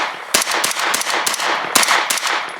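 A Colt R6450 9mm AR-style carbine fires a rapid string of loud, close shots, around a dozen sharp reports in quick uneven succession, each trailing into echo.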